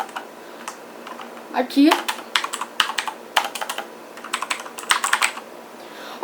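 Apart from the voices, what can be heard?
Redragon mechanical keyboard keys being typed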